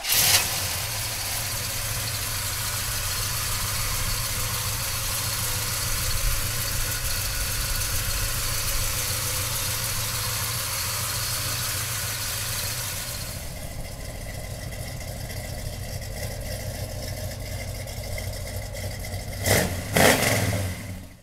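A 1968 Chevrolet Chevelle convertible engine runs at a loud, steady idle for a long stretch, with a slight rise partway through, then drops away, followed by a couple of short, sharp knocks near the end.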